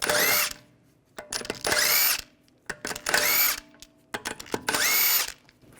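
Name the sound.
power tool removing lug bolts with 17mm socket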